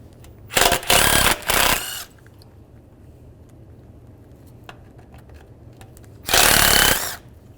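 A power driver fitted with a T30 socket runs out screws while a 1998-2010 Volkswagen Beetle radiator is being replaced: two loud whirring bursts near the start and one more later, with quiet shop background between.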